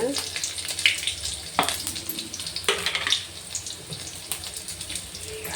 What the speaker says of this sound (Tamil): ஒரு 3 வரமிளகா, ஒரு பச்சை மிளகாய் போட்டு நல்லா வதக்கிக்கலாங்க